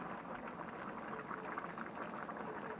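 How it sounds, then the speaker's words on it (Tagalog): A pot of butter shrimp with quail eggs boils steadily, a constant close bubbling hiss with no voices. "kumukulo na ang ating bagong recipe"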